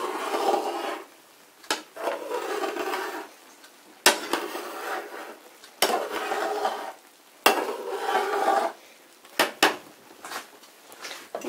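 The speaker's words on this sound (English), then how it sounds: "Then you wanna stir it." Meatless Hamburger Helper boiling in a pot over lowered heat is stirred with a utensil. Rhythmic scraping sweeps come in repeated bursts with short pauses, close and clear, against a soft bubbling sizzle.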